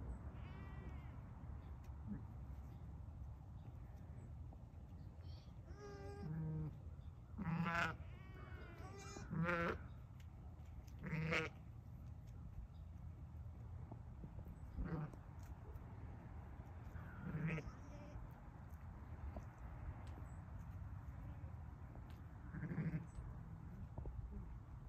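Hair sheep and goats bleat repeatedly on a farm just after a ewe has given birth, wavering cries from several animals at mid distance over a steady low rumble.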